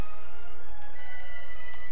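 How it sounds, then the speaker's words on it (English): A telephone rings in the Call of Duty PC game during a London Bridge mission, with steady tonal ringing over low game ambience, close and moderately loud with no talking. "And the phone is ringing."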